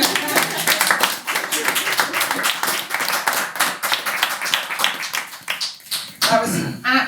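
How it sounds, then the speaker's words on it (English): Audience clapping at a panel discussion on youth violence, a fairly close, uneven burst of hand claps that carries on for several seconds, with some talk mixed in near the end. "Can we clap that?"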